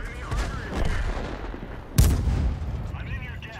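Tank cannon fire in World of Tanks from a Super Hellcat tank destroyer, heard as one loud booming shot over a rumbling background of battle noise.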